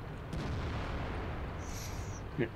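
A deep, rumbling tank cannon boom from World of Tanks, fired by a T-62A, rolls out and lingers as a broad low roar, with a faint whine and a small pop near the end.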